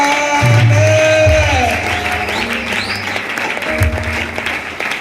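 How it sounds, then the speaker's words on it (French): A church congregation applauds during a service, a dense, continuous clapping that fills the room over sustained music, with voices heard in the mix. "Est-ce que nous pouvons acclamer?"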